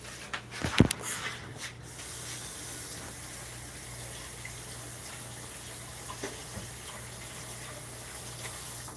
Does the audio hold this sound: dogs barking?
no